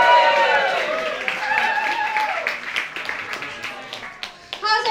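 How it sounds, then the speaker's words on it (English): At a stand-up comedy night at the Macbeth in Hoxton, London, the crowd cheers for comedian Daniël with whoops and shouts over scattered clapping. The noise is loud at first, thins out, then swells with a final burst of cheering. "Give it up one more time for Daniël."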